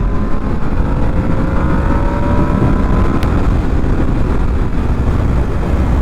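A Yamaha Vmax motorcycle riding along a road, its engine a loud, steady low roar with rushing wind noise close to the microphone and no speech.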